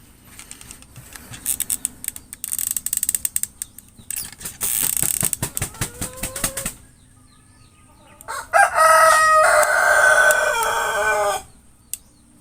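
Chickens clucking and a rooster crowing nearby, in loud bursts mixed with clattering mechanical tapping; the crowing swells strongly toward the end.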